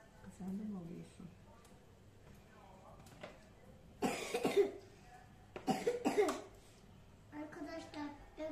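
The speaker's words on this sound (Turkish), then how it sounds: "Arkadaşlar öksürüyorum ben artık" A voice talks briefly, then two loud bursts of sick coughing break out close by, each a rapid cluster of harsh coughs, followed by more quiet talk.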